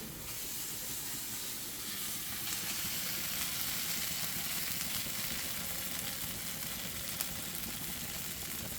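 Stuffed shevla cooking over a low gas flame, giving a soft, steady sizzle and hiss with faint crackles, continuous and fairly quiet, with no talk.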